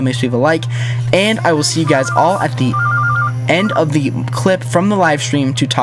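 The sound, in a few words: telephone ringing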